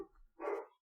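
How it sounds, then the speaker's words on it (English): A dog barks once from inside a house, heard faintly as part of a horror audio drama: a single short, muffled bark after a brief low rumble, with no talking. "What dog was barking that?"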